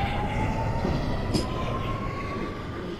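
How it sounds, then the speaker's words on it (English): A New York subway 6 train leaving the station, a loud rumbling roar of rolling cars with a thin steady wheel squeal running throughout and a brief high screech midway. "Let's watch the train leave."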